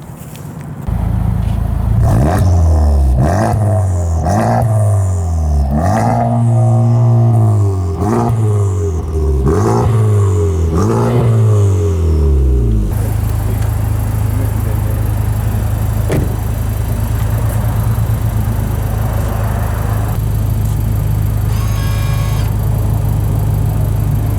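Honda Type R engine revving hard through repeated gear pulls, each rise cut off sharply, then a steady loud cruising drone with road and wind noise.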